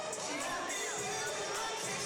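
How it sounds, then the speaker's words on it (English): A large crowd cheers and shouts in a high school gym at a volleyball match against Bagley. The sound is a steady, fairly distant roar of voices with children shouting. "Big crowd on hand tonight."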